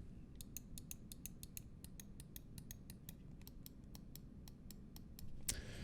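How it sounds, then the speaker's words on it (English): Finalmouse Scream One mouse buttons clicked in a rapid, fairly regular series of light, crisp ticks, quiet and close, with no talking. "So it's not a loud click, but a very easy actuation on both sides."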